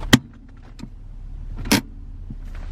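A hand-operated parking brake in a 2016 Honda Accord two-door coupe is pulled twice inside the cabin, giving two short, sharp ratcheting clicks about a second and a half apart over a low, quiet interior hum.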